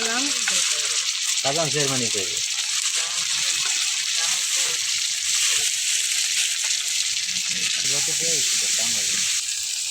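Onion and green chili fry in a wok for a fish bhuna, giving a loud, steady sizzle throughout, with voices talking over it in a home kitchen.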